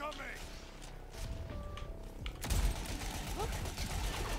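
Sniper gunfire in the game Crucible cracks out in a few sharp shots among other battle noise, with one heavy close report midway, while players talk over it.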